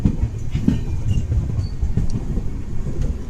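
Champaran Satyagrah Express rolling into Hapur Junction on a foggy morning, a continuous low rumble of wheels and carriages with faint metallic clatter, steady and close, no voices.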